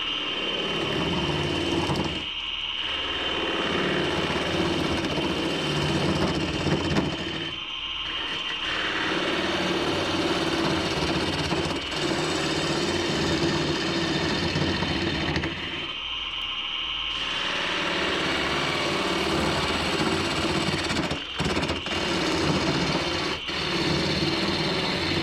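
A wet cherry bowl spun on a wood lathe and cut with a small spindle gouge, a steady whirring motor drone with a continuous scraping hiss of the cut, broken by a few brief pauses, loud and close throughout.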